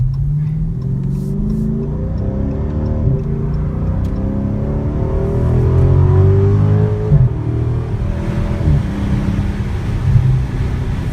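A Dodge Challenger with a Hemi engine, a loud close deep rumble that swells as the revs climb midway, then settles back to a steady growl, with no voices.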